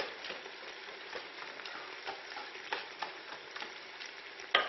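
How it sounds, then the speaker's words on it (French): Cooked, softened pears being mashed with a whisk in a pan for pear and lemon jam: a steady, soft, wet squelching and scraping with irregular small clicks, moderately close and without talk. "à l'aide d'un fouet, j'écrase"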